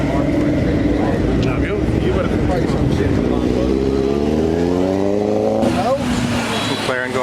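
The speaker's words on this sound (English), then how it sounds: "McLaren going by." A McLaren 650S supercar passes by on a street, its engine note rising and sweeping through loudly, with a steady rumble and a sharp shift near the end, mixed with surrounding street noise.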